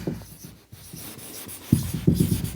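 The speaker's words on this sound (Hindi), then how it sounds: "इसको मैं लिखती हूँ" Writing on a board during a class 10 chemistry lesson on the Mendeleev periodic table: scratchy strokes close by, a short pause, then a few firmer, louder strokes near the end.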